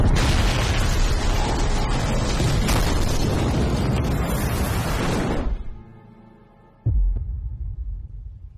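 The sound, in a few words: explosion at shipyard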